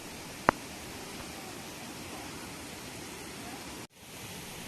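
Steady, full rushing roar of a waterfall in Kollam fills the whole stretch, broken only by a sharp click near the start and a brief dropout toward the end.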